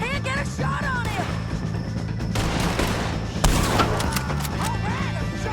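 Heavy gunfire rattles through a video-game shootout with O'Driscoll gang members in Red Dead Redemption 2, dense overlapping shots and impacts filling the scene with a sharp burst partway through, set under a continuous loud backdrop.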